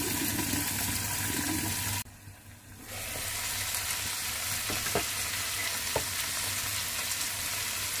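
Stuffed bell peppers cook in oil in a pan over a low flame, a steady crackling sizzle that briefly drops as the lid goes on, then carries on muffled with a few light clicks.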